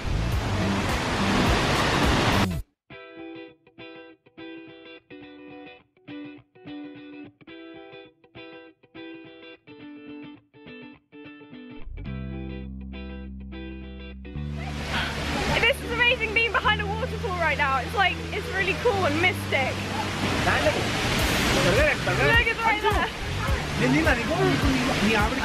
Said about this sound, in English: Behind me there's the waterfall.